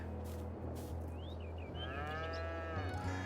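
Cattle lowing in Farming Simulator 22, several drawn-out moos overlapping near the end over a steady low engine-like hum, with no talking.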